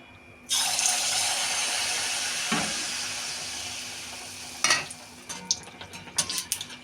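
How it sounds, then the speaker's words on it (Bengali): Mustard oil poured into a hot wok for malpua, a sudden sustained hissing rush that slowly fades, followed by bursts of crackling and spattering toward the end. "চলুন দিয়ে দেবো কড়াইতে সর্ষের তেল।"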